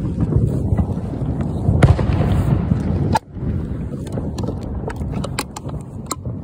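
Fourth of July fireworks bang and crackle outdoors in a dense, rolling barrage, with several sharp close pops standing out over a constant rumble, then a brief lull before more scattered cracks and distant booms.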